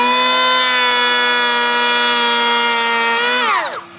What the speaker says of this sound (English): you can actually put your planer right on the edge like this